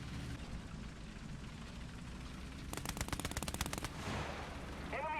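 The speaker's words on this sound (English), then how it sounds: "That's a bulldog firing 50s." An F8F-1B Bearcat firing .50 caliber machine guns in War Thunder, a single rapid burst of about a second of evenly spaced shots over a constant engine drone, followed by a short whooshing sound.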